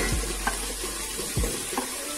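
Large chunks of potato and lengthwise-cut carrot going into a hot pan for vegetable pulao, with a steady broad sizzle throughout and a few brief soft knocks and stirs, close up.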